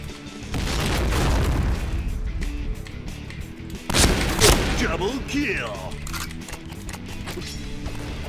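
In the online shooter Point Blank, a thrown grenade bursts nearby amid gunfire, with heavy booming blasts and rattling shots while a player talks over the noise.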